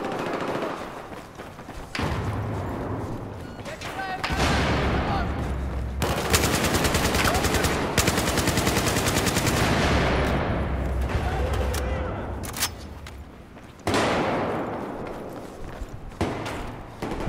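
In the video game Battlefield 4, during team deathmatch on the Operation Locker map, dense automatic gunfire crackles in long, loud bursts with heavier booming stretches, and game noise continues throughout.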